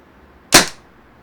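A Tippmann Cronus paintball marker with a high-power mod fires a single 4-gram rubber ball, one sharp close crack with a short fading tail, the rest quiet.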